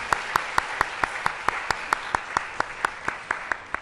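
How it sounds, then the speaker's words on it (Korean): A church congregation at a Wednesday evening worship service claps together in a steady, even beat, with about sixteen crisp unison claps in quick succession over a soft background murmur. "힘찬 박수 한 번 더"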